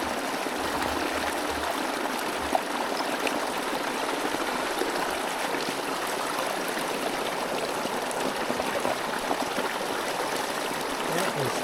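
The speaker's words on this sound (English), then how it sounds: "We have a nice stream right here." Mountain stream on a hiking trail rushing over rocks, a steady, dense wash of bright flowing water heard up close and loud throughout, with no voices over it.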